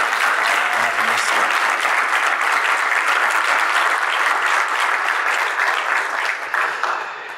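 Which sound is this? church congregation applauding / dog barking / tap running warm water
church congregation applauding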